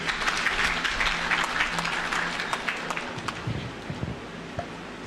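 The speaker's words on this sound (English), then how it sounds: "Let's give Noela a clap, please." Sustained applause from a crowd at a memorial service, dense clapping that holds steady for several seconds and fills the room, with a few louder claps near the end.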